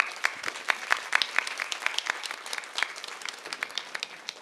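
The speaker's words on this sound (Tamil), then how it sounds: "இந்த குழந்தைகளுக்காக எங்கே அரங்கு நிறைந்த கைத்தட்டல் ஒன்று." Applause from an audience at a temple cultural dance programme for the dancing children, a steady patter of many hands with sharper individual claps, moderately close and continuing throughout without speech.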